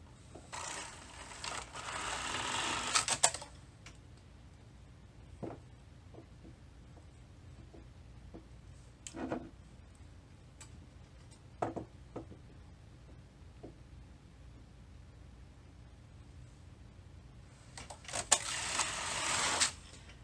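Superba knitting machine with a Forma pattern driver knitting circular rows: a carriage swishes across near the start and again at the end, with scattered mechanical clicks and clunks from the pattern advance in between.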